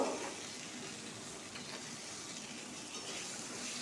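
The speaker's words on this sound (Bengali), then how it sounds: "এখানে আদা আর রসুনের পেস্টটা দিয়ে দিলাম একটু নাড়াচাড়া করার পর" Ginger-garlic paste with spices stirs and fries in hot oil in a pan, giving a soft, steady sizzle with faint scraping throughout.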